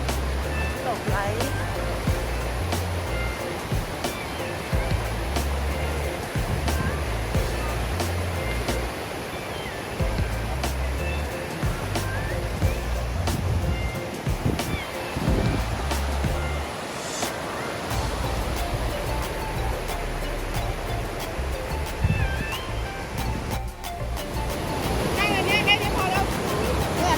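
Fast-flowing water rushes at a waterfall about 45 km from Bodø, Norway, a steady loud roar running throughout while people talk over it.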